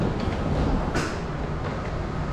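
Steady low rumble of a nearly empty airport tram rolling along, with a smooth continuous drone and a brief brighter swell partway through, no voices.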